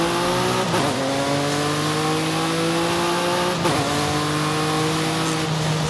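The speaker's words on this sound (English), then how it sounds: "this Jaguar XE S has that exact same engine, so let's have a listen to it." A Jaguar XE S in Forza Horizon 5 revs hard and loud, its engine note climbing in two long rising sweeps, each cut by a quick drop as the revs reset, with a faint hint of tire squeal.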